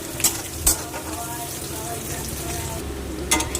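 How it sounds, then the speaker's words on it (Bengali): Chopped onions frying in a pan until reddish, a steady soft sizzle close by with a few sharp clinks of a utensil scraping the pan. "পেঁয়াজটা একটু লাল লাল করে ভাজা হয়ে এসছে"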